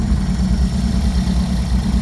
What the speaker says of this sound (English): You can hear the alternator putting load on the engine and then not putting load on it.